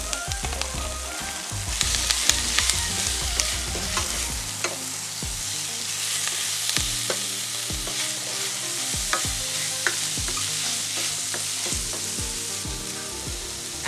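Veggie chunks for a Jamaican-style vegan ackee breakfast fry with tomatoes and Scotch bonnet pepper, sizzling steadily in a pan while a utensil stirs and scrapes in frequent irregular clatters, close and fairly loud, with no talk.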